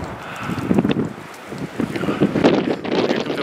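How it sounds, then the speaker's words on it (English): Strong wind buffets a mountain ledge, a loud, steady roar of gusts with no talking. "Here comes the wind. I'm not comfortable on this ledge with that wind."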